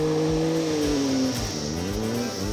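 A Triumph Tiger Explorer motorcycle accelerates hard from close by, its engine note climbing through the revs, dropping briefly at a gear change, then rising again.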